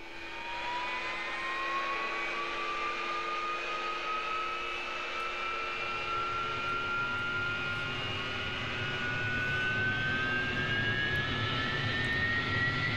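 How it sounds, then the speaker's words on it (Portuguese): An AV-8B Harrier jet engine in DCS spools up from start, a steady loud whine climbing slowly in pitch over a deep continuous roar, alone without talk. "Pronto, o motor já deu a partida, senhores."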